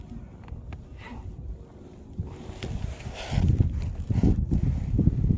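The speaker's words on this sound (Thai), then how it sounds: "ลมก็ มี พัดบ้างเบาบ้าง" Wind gusting over the Lam Phok reservoir, buffeting the microphone with a low, rumbling roar that swells and grows stronger toward the end, with no talk.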